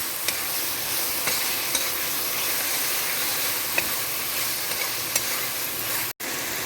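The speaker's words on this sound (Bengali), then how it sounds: "দেখো মশলাটা ভাজা হয়ে গেছে।" Spice paste fries in a pan for banana flower curry, producing a dense, continuous sizzle with scattered pops and scraping stirs, close and loud, broken by a brief dropout near the end.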